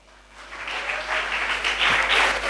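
An audience at an inspirational speech and Q&A session breaks into applause, the clapping swelling from light to steady and dense over a couple of seconds, close and with no voices over it.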